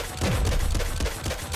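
Rapid weapon fire in the Nuclear Throne video game, a quick run of loud, crunchy repeated shots filling a short burst of little more than a second, with no talk.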